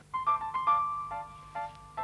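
A telephone rings as a wake-up call, sounding a run of short electronic tonal chirps in rapid bursts, clear and close with no voices.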